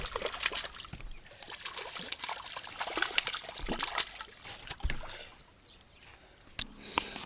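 Water splashes and trickles close by in irregular bursts, with sloshing and dripping that ease off briefly before picking up again.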